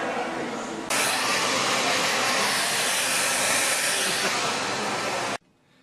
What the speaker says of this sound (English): Sit under a sexy dryer for about 20 minutes.